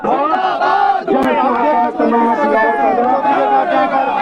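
Protest crowd of BJP workers in Kalakote loudly chanting slogans in unison, close and dense, repeated shouted phrases with brief breaks between them.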